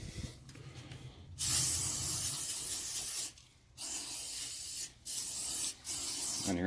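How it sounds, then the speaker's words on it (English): Close, loud hissing from an aerosol disinfectant spray inside a package, in several bursts, one long blast followed by shorter pulses with brief pauses between them. "And you're going to spray the inside with whatever you choose to use."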